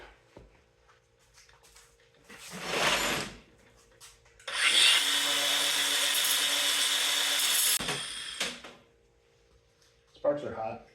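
A power tool cuts down a trophy part, throwing sparks, in one loud, steady burst lasting about three seconds, with someone talking before and after it.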